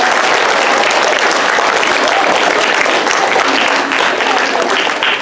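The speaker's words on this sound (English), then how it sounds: "So let's give Delano a round of applause." Dense, steady applause from an audience at a book launch in Delano, California, filling the whole stretch at full loudness with a faint voice underneath.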